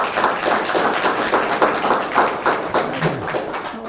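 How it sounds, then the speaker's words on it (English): An audience at a panel discussion in the Yogi Berra Museum gives a steady round of applause, dense overlapping claps at moderate volume with no speech over it. "Give them a nice round of applause."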